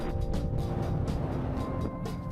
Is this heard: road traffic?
yes